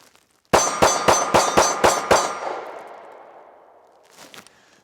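Seven rapid 9mm pistol shots strike a 4-inch steel plate, each crack followed by a bright metallic clang, the ringing tail fading over a couple of seconds, with fainter knocks afterward.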